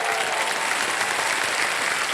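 Studio audience clapping for a contestant on the Indian quiz show Kaun Banega Crorepati, a dense, even burst of applause filling the whole moment.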